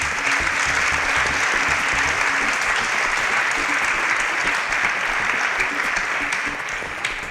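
A studio audience at a quiz competition breaks into a round of applause after contestants answer correctly, a dense, even wash of clapping sustained loudly across the whole stretch without a break.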